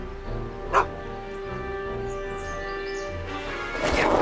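A dog barks in a cartoon-like scene, a sharp bow-wow yip near the start followed by a louder burst near the end, with music and commotion underneath.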